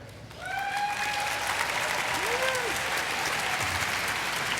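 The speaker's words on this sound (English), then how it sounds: "So let's give an applause for Michael, who's coming up here." An audience at a MINECON 2013 panel breaks into steady applause that fills the room, with a brief whistle-like tone sliding over the clapping.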